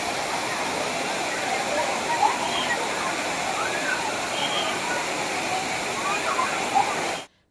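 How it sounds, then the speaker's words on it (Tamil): Steady roar of Thirparappu waterfall, where tourists bathe, a loud continuous wash of falling water with faint splashes and voices mixed in. "குமரி குற்றாலம் என்றழைக்கப்படும் திருப்பரப்பு அருவிக்கு பயணிகள் படையெடுத்தனர்"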